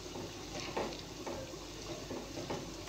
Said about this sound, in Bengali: তো এটাকে আমি খুব ভালো সুন্দর করে ভেজে নেব।